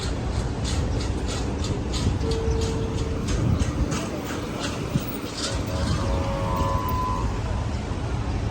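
A metro train rumbles steadily nearby at Baniyas metro station, with a couple of brief electronic tones sounding over the low mechanical hum.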